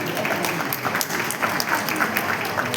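Steady, dense applause from a concert audience greeting the artists at a classical music conference, sustained and even throughout with no talk over it.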